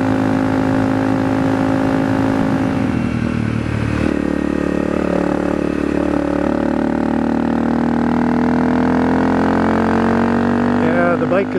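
Honda CRF250 motorcycle ridden along at steady speed, a continuous close engine drone that dips briefly, then rises again as the revs climb.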